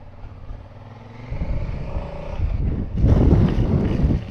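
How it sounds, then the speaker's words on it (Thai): Wind and heavy rain on the way to Pranburi, a rough rushing roar that swells midway and grows louder and fuller toward the end, with gusty buffeting on the microphone. "ทั้งลมทั้งฝน"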